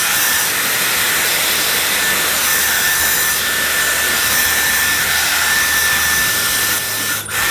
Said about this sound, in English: and now we're gonna dry our hair.